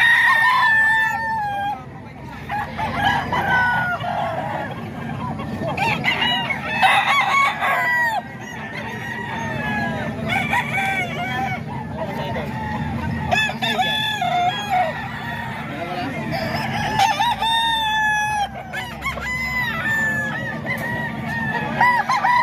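Roosters crow over and over amid clucking chickens at a rooster sale in Bocaue, several birds calling close and overlapping, with people talking in the background.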